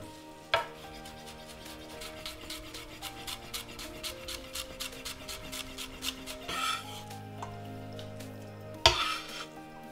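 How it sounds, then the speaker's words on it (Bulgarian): A knife chops fresh mint for a lentil and vegetable salad in a quick, even run of light taps on a board, ending with a couple of louder knocks. "Нарязвам и прясната мента в последния момент"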